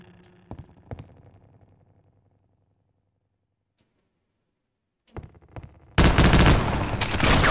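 Video game weapon fire: a couple of sharp shots early, a quiet gap, then a sudden loud sustained burst of automatic gunfire that fills the final stretch.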